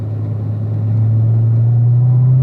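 A race car engine on a track drones loud and close with a strong steady rumble that swells slightly as the car shifts up to fourth gear.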